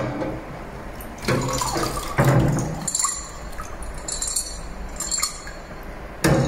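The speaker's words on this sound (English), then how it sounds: "the range of glugging and pouring and trickling sounds that they make" Water pours, glugs and trickles from hands-on play objects in a museum exhibition, with splashy bursts and light clinks of hard vessels knocking together, close and uneven, with no voices.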